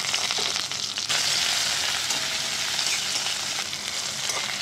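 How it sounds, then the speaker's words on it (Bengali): Chopped onions frying in oil over medium heat for Bengali masoor dal, giving a loud, continuous, close sizzle that holds steady throughout without any voices. "পেঁয়াজটাকে একটু হালকা ফ্রাই করে নেব, লাল করে"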